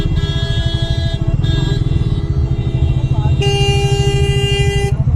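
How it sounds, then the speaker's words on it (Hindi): A motorcycle horn honks in long sustained blasts, broken by short gaps, over the steady rumble of an idling engine nearby. "हम भी हॉर्न बजाते हैं यार"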